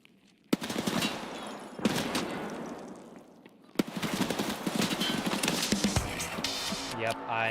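Gunfire in the video game Escape from Tarkov: sharp bursts of rapid shots with heavy reports and a few single cracks, loud and close, with a voice talking briefly over the action.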